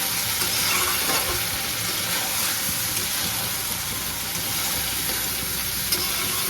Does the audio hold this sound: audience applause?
no